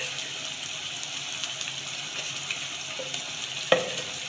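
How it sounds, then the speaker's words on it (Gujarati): Potato poha mixture stirred in a frying pan, a steady soft sizzle with faint scraping of the spoon and one sharp clink near the end. "હવે આપણે આ બધું જ મિક્સ કરી દઈએ."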